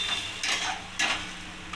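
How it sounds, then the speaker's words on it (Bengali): Spice masala of turmeric, coriander and cumin powder fries in a pan as it is stirred, a soft steady sizzle broken by two brisk scraping strokes of the spoon, close and moderately quiet. "এবার মশলাটা আমি ভালোভাবে কষিয়ে নেব।"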